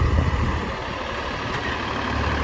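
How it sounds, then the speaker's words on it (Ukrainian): A tractor labouring as it pulls a DTZ 1.6 rotary tiller through waterlogged, swampy soil after heavy rain, its engine a heavy, continuous low rumble with no talk. "видно, що трактору трішки тяжко"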